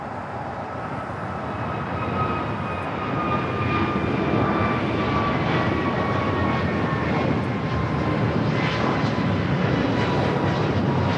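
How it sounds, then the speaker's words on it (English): American Airlines A321neo jet taking off, a loud, building engine roar that swells over the first few seconds and then holds as a dense, rumbling thrust with thin whining tones above. "American Airlines 2311 taking off to Miami on the A321neo"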